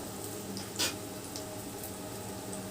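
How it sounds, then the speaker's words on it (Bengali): Garlic, ginger and green chili frying in a pan, a faint, steady oily sizzle with one brief clink of a utensil partway through. "যাতে হালকা একটু লাল হয় সেই রকমভাবে রসুন আদা কাঁচা লঙ্কাটা ভেজে নিতে হবে"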